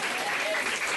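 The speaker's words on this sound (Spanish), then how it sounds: "Denle un aplauso al Señor nuestro Dios, al bendito Espíritu Santo." A church congregation applauding during a service, a brief burst of dense, steady clapping from many hands throughout, with a voice faintly audible underneath.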